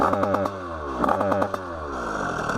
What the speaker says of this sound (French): On voit que la moto elle prend pas de tour, donc c'est pour ça qu'elle ne veut pas rouler très vite.